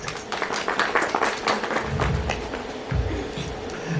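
Audience applause at a Miss Rajasthan fashion talk show swells into steady, moderately loud clapping with some crowd noise mixed in, while a guest is welcomed onto the stage.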